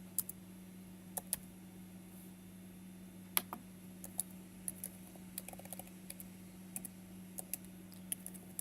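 Computer keyboard being typed on, heard as faint, sparse, irregular keystroke clicks scattered over a steady low electrical hum in a quiet room.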